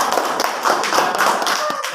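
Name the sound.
audience clapping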